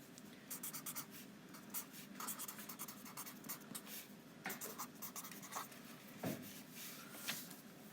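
A marker or chalk writes on a board in a quiet room, with short, faint, uneven strokes and scratches in an irregular rhythm and no speech.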